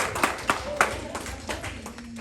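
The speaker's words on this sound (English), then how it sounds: "Give yourselves a round of applause." A small audience at a public-speaking confidence session claps in a short, scattered burst of separate sharp claps under a low murmur of voices.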